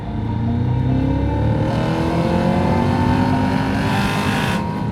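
2022 Cadillac CT5-V Blackwing sedan's supercharged engine revving hard in second gear, a loud, continuous rising roar with climbing pitch, heard from inside the car with no talking.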